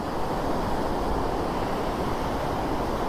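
Water pouring over a dam gate on the river at Rajahmundry, a dense, steady roar of rushing water that stays loud and unbroken throughout.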